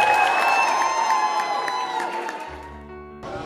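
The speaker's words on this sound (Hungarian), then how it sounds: "egy nagyon nagy tapsal szeretnélek titeket köszönteni." A crowd at a university event cheers and claps loudly, with whoops and shouts over the applause, which fades toward the end and is followed by a low hum.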